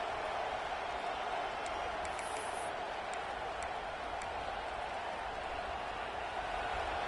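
Steady roar of a large American football crowd, constant and dense throughout with no pauses, like a packed stadium buzzing and cheering from all around.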